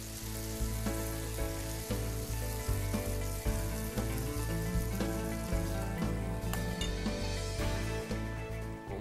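Pasta sizzles loudly and continuously in a Tefal frying pan as cooking cream goes in, with a dense crackle running throughout, punctuated by light clinks of utensils against the pan.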